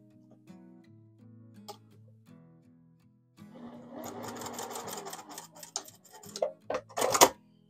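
A sewing machine makes quick reinforcing stitches on a receiving blanket after a few stitches were unpicked, with short bursts and ticking mechanical clicks following a quieter stretch of low hum.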